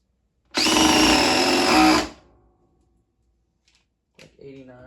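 A DeWalt DCF870 impact driver drives a big screw in one loud, close burst lasting about a second and a half, then cuts off; a faint knock and a voice follow afterward.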